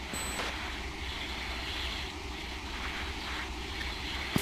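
Fighter jet engine relit and running in a flight sim combat game, a steady low rumbling roar with airy hiss, moderately quiet and continuous, ending with a brief click.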